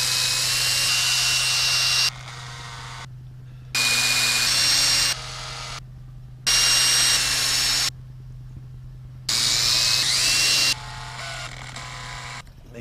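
A power drill whirs in several bursts of a few seconds each, drilling through the rails of a 1/14 scale semi truck's cable-actuated fifth wheel, separated by short pauses and quieter stretches.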